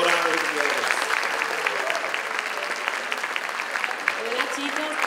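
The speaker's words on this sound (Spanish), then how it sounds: "Así que recibamos un fuerte aplauso a Yuvelkin Montalvo, directora de HEDS." Sustained applause from an audience at a student leadership showcase, a steady dense patter of clapping lasting the full stretch at even loudness, welcoming a speaker to the stage.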